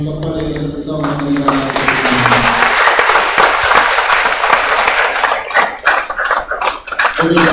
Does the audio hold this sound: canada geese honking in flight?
no